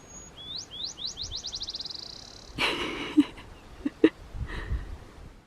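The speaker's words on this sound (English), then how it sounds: "This little bird reminds me of a ball that you drop and then it kind of bounces towards the end." A small bird on the Pacific Crest Trail sings a bouncing-ball call, clear whistled notes speeding up toward the end, followed by a few sharp rustles and clicks nearby.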